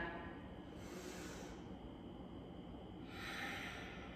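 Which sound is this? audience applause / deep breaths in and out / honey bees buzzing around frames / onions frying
deep breaths in and out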